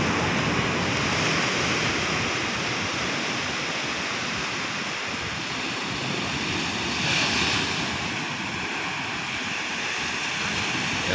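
Large ocean waves at the beach resort in Bauang, La Union, produce a continuous, loud broadband roar of surf with wind buffeting the microphone and a slight swell of crashing water around the middle.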